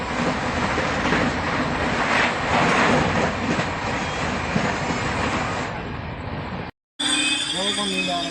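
A passing train heard from aboard the Malwa Superfast Express in India, a loud steady rumble and rail clatter that fades after a few seconds and cuts off abruptly, with voices.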